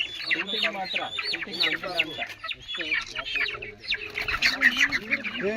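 Young chicks handed out by a village panchayat to Jenu Kuruba families in Bendebetta keep up a dense, busy chorus of high clucks and cheeps, close and continuous, while people talk over them.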